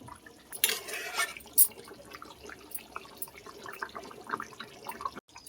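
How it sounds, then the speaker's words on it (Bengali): Hot water poured into a pot of chicken and yam curry, a brief splashing pour near the start followed by quieter drips and liquid movement. "গরম জলটা এতে দিয়ে দেবো"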